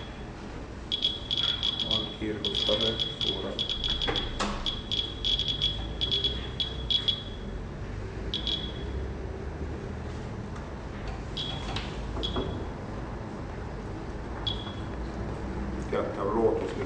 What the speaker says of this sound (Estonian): See on pandud sellise režiimi peale, et iga kiirgusosake tekitab siis helisignaali,